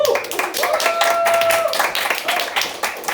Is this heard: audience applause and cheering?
yes